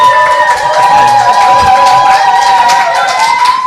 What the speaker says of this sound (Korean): 앞서서보다 좀 박수가 좀 큰데요